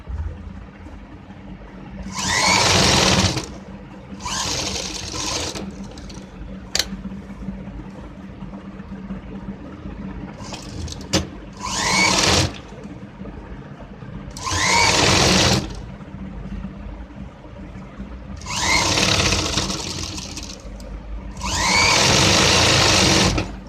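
A sewing machine stitches along the neckline of a blouse in several bursts of whirring lasting a second or two each, separated by quiet pauses, close and without talk.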